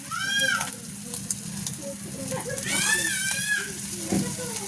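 Kochu bora batter sizzles steadily in hot mustard oil, a constant frying hiss under a voice talking, with a few brief tonal sounds above.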